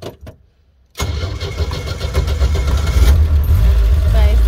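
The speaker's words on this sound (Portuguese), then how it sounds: "Você pisar no freio e dar aquelas bombadinhas no acelerador." After a brief quiet moment, an old Jeep engine cranks and catches, then runs rough and loud, its revs rising in repeated pumps of the accelerator close by.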